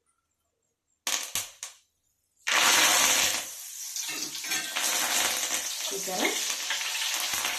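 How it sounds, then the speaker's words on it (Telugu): Curry leaves dropped into hot oil for karam boondi crackle and pop in a few sharp bursts, then erupt into loud, continuous sputtering and sizzling frying noise; a voice speaks briefly. "ఇప్పుడు ఇందులోకి కరివేపాకు కూడా ఇలాగే వేసుకొని వేపుకుందాము."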